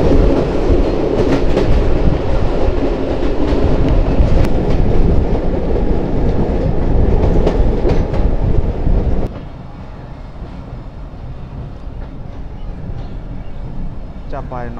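The Dhalarchar Express rumbles loudly along the rails with a dense, steady roar and rhythmic clickety-clack, dropping abruptly to a quieter, thinner rolling hum partway through.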